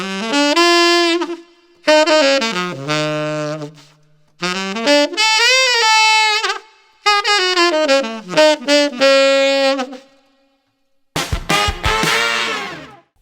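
Saxophone phrases in a jazz style, several held notes ending in a wide wobbling vibrato, played clearly and alone with short gaps between lines.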